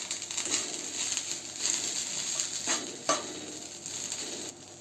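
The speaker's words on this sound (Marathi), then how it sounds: "गरम कढईतच ते भाजून घ्यायचं थोडंसं." Garlic, ginger and coriander roasting in a hot kadhai with the gas turned off, a soft sizzle under intermittent scraping and stirring, with a few sharper clinks of the spoon against the pan.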